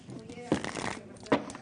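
A deck of playing cards gets a Vegas casino-style shuffle, with two sharp riffling bursts of card edges over a low background murmur of voices nearby.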